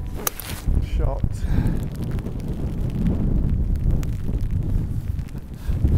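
Wind gusting across an outdoor golf course in wet weather, a steady low buffeting roar against the microphone with a few soft thumps, as people talk briefly at the start.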